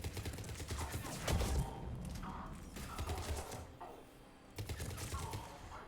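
Rapid automatic gunfire from the video game Mass Effect 3, coming in several short bursts with brief pauses between them, fairly faint and mechanical-sounding, with no voices.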